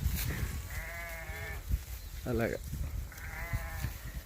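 Sheep in a flock let out two drawn-out, wavering bleats a couple of seconds apart, with someone briefly speaking between them over outdoor background noise.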